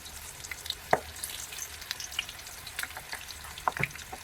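Okra pieces fry in hot oil as a crispy snack, with a steady, close sizzle broken by small pops and crackles and no voices over it.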